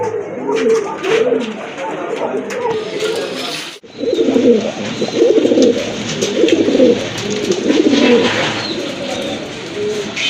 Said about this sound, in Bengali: প্রথমে আপনারা দেখতে পাচ্ছেন এক জোড়া হোয়াইট বিউটি হোমা কবুতর